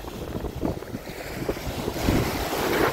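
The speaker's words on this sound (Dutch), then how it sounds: "Af en toe klappen water eroverheen," Sea waves washing over a sandbank, with gusty wind buffeting the microphone and irregular splashes of water nearby, growing louder toward the end.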